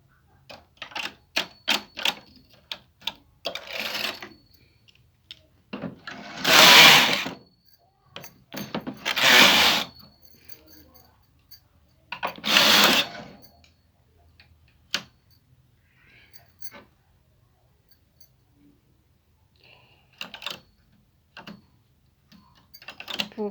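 A knitting machine working a lace pattern for a women's blouse or baby girl frock, with repeated mechanical clicks and ticks, three louder carriage sweeps, and scattered clacks in between, close and with no talk.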